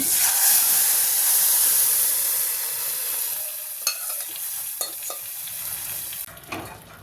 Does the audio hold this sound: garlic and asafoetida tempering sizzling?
yes